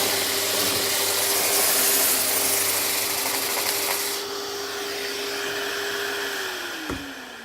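A Festool RAS rotary sander fitted with 80 grit runs at its lowest speed setting, a steady close whine with broadband hiss that holds evenly before the motor pitch sags and winds down near the end.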